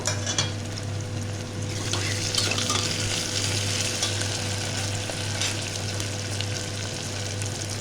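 Tomatoes sizzle with browned onions in hot oil, a close steady frying hiss broken by spoon scrapes and stirring clatter against the pan, with no voices.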